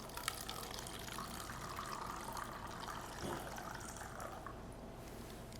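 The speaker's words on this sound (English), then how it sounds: "So here I have a glass, I have water. I'm going to tip it from one into the other." Water poured from one glass into another makes a steady, faint trickle and fill lasting several seconds, close by and heard without any talk.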